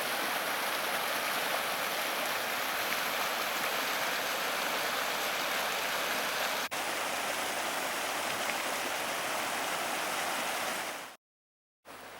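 A river rushes steadily nearby, a constant loud wash of flowing water, briefly cut to silence near the end.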